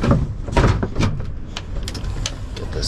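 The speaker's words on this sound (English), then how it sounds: "Get this back door shut." A truck's back door slams shut in a parking lot at night, a heavy thud followed by rattling clunks and latch clicks close by.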